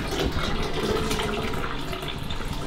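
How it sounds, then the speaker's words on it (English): A toilet flushing in a bathroom, with a steady, loud rush of swirling water running continuously throughout, no voices. "One more flush for safety."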